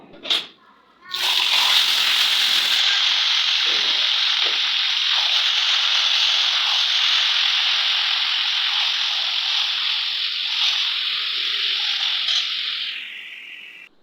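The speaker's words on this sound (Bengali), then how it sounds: "এবার যে সেদ্ধ করা কচু শাকটা আছে সেটা দিয়ে দেবো" Boiled taro greens drop into a hot pan of oil tempered with dried chili and nigella seeds, setting off a loud, sustained sizzle that slowly fades near the end, after a brief clatter at the start.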